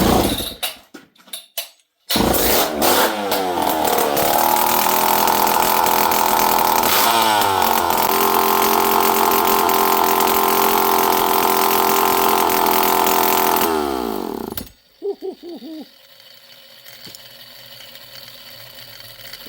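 An old Poulan 5200 chainsaw is yanked a couple of times, roars to life and runs loud and close at high, steady revs with a few throttle dips before cutting off abruptly, leaving a quiet background.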